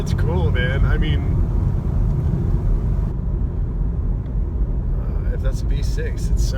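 A 2017 Chevrolet Camaro RS V6 with an 8-speed automatic hums and rumbles steadily while driving, heard from inside the cabin with road noise, as someone talks over it.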